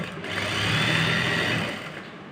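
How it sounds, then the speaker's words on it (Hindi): A sewing machine runs steadily while stitching along a lehenga border, a smooth continuous whirring hum that swells slightly and fades near the end, close by and without speech. "तो इसके पास के अंदर हम जो है वो सिलाई लगाएंगे जिससे कि गुणा एकदम प्रॉपर और एकदम लाइन के अंदर नज़र आएगा।"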